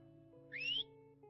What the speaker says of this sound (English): What are you whistling at, sod?